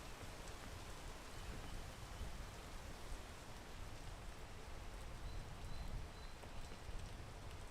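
Steady rain falls in Monster Hunter as a constant, even hiss of dense drops, soft and diffuse, with no pauses and no voices.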